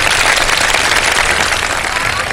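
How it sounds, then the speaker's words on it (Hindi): Loud, dense applause from a studio audience at a televised Ramadan iftar show in Pakistan, a steady wash of clapping filling the whole moment with no break. "बहुत सारी तालियां।"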